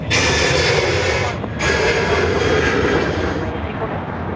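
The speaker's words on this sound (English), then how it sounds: "We've got Qantas 655 off to Perth there. The A330 200." A Qantas Airbus A330-200 jet departing Sydney for Perth in the evening, a loud, close engine roar with a brief dip partway through.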